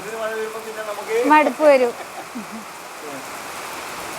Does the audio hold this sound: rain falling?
yes